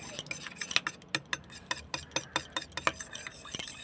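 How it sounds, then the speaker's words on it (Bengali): A spoon stirs honey into warmed leaf juice in a small cup, giving a quick series of light, ringing clinks and taps against the sides. "এই পাতা রসের মধ্যে মধুটাও মিশিয়ে নিলাম"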